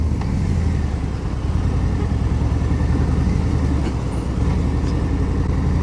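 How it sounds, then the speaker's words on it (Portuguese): A freshly serviced motorcycle rides through congested traffic in Botafogo, Rio de Janeiro, with a steady engine hum and road rumble, continuous and moderately loud, with faint traffic noise around it. "A moto tá rodando lisinha, hein?"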